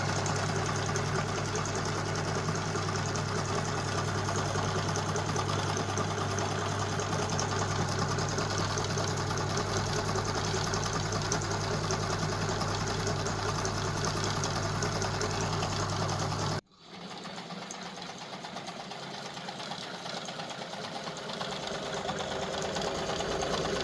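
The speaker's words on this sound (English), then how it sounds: "let's get the sewing machine out again and zip this one up" A sewing machine stitches steadily with a continuous mechanical whir and rapid chatter, then abruptly stops and the room goes quieter.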